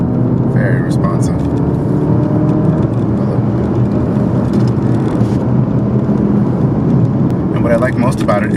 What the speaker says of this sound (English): And what I like most about it is how fast it shifts through the gears.